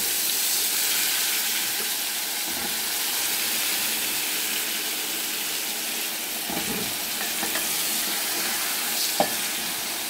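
Sliced ridge gourd frying in a pan, a loud, steady sizzle close up throughout, with a few soft stirring scrapes and clinks.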